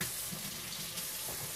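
Tap water runs steadily into a sink as hands are washed in a home kitchen while cooking salmon, a continuous close splashing hiss with no talk.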